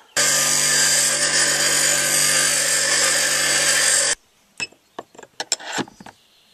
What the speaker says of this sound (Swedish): Jag gör så att jag slipar ner roddaren lite grann på alla 4 sidor.